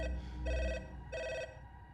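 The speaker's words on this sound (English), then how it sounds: "The phone rings again." A telephone rings in two evenly spaced bursts of electronic trill, fairly faint over a low background hum.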